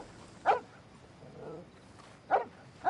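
A puppy barks twice, short sharp yips spaced about two seconds apart, fairly close and moderately loud over a quiet, low background murmur.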